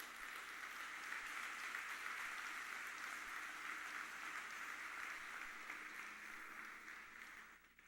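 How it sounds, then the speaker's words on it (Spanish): A church congregation applauds the Lord during a sermon, a steady, fairly distant wash of clapping that holds evenly throughout and fades slightly at the very end. "Dale un fuerte aplauso al Señor."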